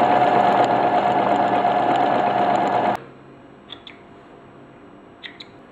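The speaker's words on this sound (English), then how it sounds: "set your machine up to do that, and then just stitch it over the edge of the fabric again" A sewing machine runs a 3-step zigzag stitch over a fabric edge, a busy mechanical whirr for about three seconds that stops abruptly, followed by a few faint clicks.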